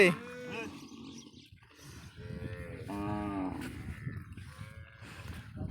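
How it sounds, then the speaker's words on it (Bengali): Cattle low repeatedly on a Padma river sandbank near the India–Bangladesh border, several drawn-out moos at close to middle distance over a rough outdoor background, with voices faintly present. "তো অসংখ্য গরু এই চরের মধ্যে আছে"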